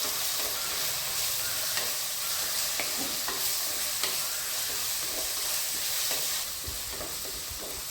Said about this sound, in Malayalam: എന്നിട്ട് ഇതൊന്ന് നന്നായി വഴറ്റിയെടുക്കുക.